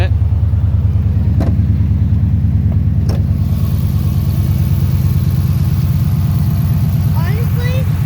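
A 2013 Dodge Challenger R/T fitted with long tube headers idles after a cold start, a loud, steady, deep rumble with a rapid pulsing exhaust beat, close up, with a couple of sharp clicks early on.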